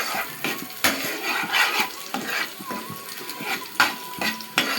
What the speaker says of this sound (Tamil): 4 முட்டை ஆட் பண்ணிவிட்டு உப்பு போட்டு நல்லா பொடி மாஸ் மாதிரி கிண்டிக்கோங்க